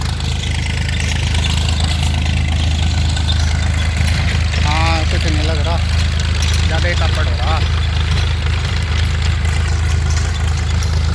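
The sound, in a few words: tractor engine idling in a field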